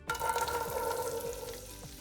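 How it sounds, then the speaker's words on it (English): Diced onion, carrot and celery sweating in oil in a soup pot, a steady moderate sizzle with faint stirring clatter. "Now that our oil is in there, we're gonna sweat our mirepoix."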